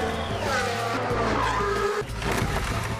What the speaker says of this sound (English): Just outside these walls, there's these incredibly tight twisting turns and the unpredictability of a Formula One race.